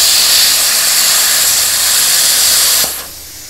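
A plasma cutter blowing through 10mm steel plate gives a steady, loud broadband hiss like rushing air for about three seconds, then drops off sharply near the end, leaving a quieter hiss.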